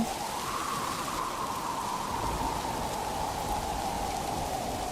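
Steady rain falls through a stormy evening over an open field, a soft continuous hiss with no voices and no thunder.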